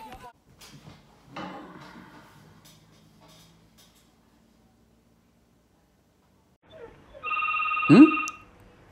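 Old-style telephone bell ringing, a single loud, close burst of about a second and a half that cuts in after a stretch of scattered rustling and near silence.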